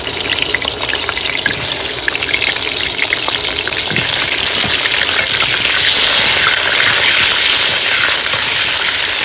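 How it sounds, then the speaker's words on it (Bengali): Potatoes fry in mustard oil in a hot wok, a loud, close, continuous sizzle and bubbling hiss that holds steady throughout, with occasional stirring scrapes and no one speaking. "আলু ভেজে নেব।"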